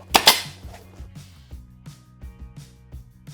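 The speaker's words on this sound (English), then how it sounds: "Now I'm just going to staple into the side of the foam" A staple gun firing into the side of foam on a fabric headboard: one loud sharp snap followed by about seven lighter, evenly spaced clacks, close by with no talking.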